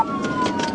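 Police car siren wailing during a roadside traffic stop, a steady rising-and-falling tone repeating in pulses over road noise, fairly close and clear.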